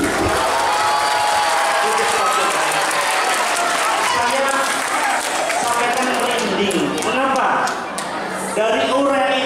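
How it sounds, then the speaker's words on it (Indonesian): Audience applause at an elementary school graduation and farewell ceremony for departing students at SD Baptis Palembang, loud and sustained clapping with cheering voices and some talk mixed in throughout. "Tepuk tangan dulu."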